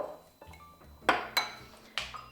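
A utensil clinks against a bowl as sugar is mixed in, giving a few sharp, close taps spaced apart over quiet kitchen background.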